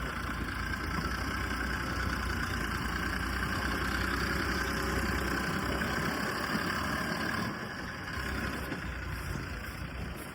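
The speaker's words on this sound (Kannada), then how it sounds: "241DI 42 HP ಟ್ರ್ಯಾಕ್ಟರು, ದೊಡ್ಡ ಟ್ರ್ಯಾಕ್ಟರು" A Sonalika 241DI 42 HP tractor engine idles steadily outdoors, a continuous rough diesel rumble with vibration that stays even throughout and eases slightly near the end.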